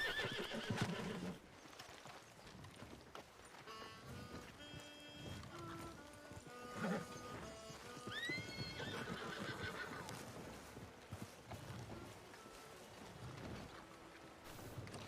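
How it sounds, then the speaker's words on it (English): Horse neighs and whinnies in the WildRP video game, with rising whinny calls over clip-clopping hooves and a steady background bed, moderately loud throughout. "I don't know whose horse this is, but I'm getting rid of it."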